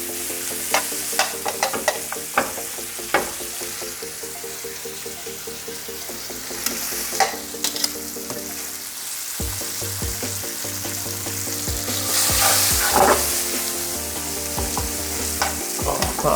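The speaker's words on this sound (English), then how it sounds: "So slowly start stirring this. We want this salami to get nice and crispy." Salami fries over high heat in a pan, giving a continuous close sizzle with repeated stirring clinks and scrapes, and the sizzle swells louder toward the end.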